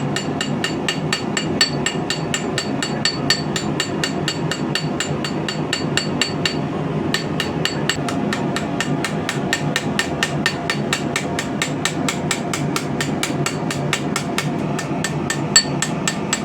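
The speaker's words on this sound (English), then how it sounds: "I like to use a little rock pounding hammer. And we're going to give it that" A small rock pounding hammer strikes a handmade feather knife blade to texture it, a fast, even run of sharp metallic taps, loud and close, continuing with only a brief pause.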